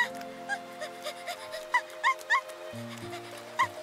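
A cartoon puppy whimpers and yips in short, high, bright cries, several spaced over a few seconds, over soft background music with low tones.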